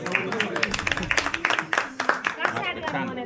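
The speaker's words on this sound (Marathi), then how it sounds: "अरे टाळ्या वगैरे वाजवा ना भाई" A few friends on a bike trip at Raireshwar Fort clap their hands in quick, uneven bursts, the sharp close claps mixing with their overlapping talk and laughter.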